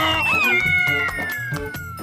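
A cartoon cat in a Hindi comedy animal story lets out a loud, close, wavering meow with a falling pitch, set over a bright background music score.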